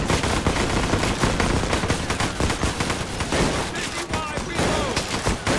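Shootout gunfire in the video game GTA 5 during a bank heist crackles in loud, rapid, overlapping bursts of automatic fire that never let up, with faint voices mixed in.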